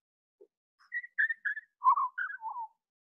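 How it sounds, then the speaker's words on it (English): A slowed-down Henslow's sparrow song: a slow, drawn-out series of clear whistled notes, rising and falling, alone against total silence. "This is a henslow sparrow, the way that a henslow sparrow hears a henslow sparrow."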